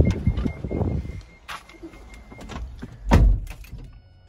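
Remote-operated sliding door on a Toyota Previa Estima minivan opening: a short motorised whir and slide, with a louder thump near the end, close by and with no talking.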